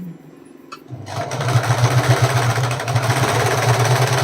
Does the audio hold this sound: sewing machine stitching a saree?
yes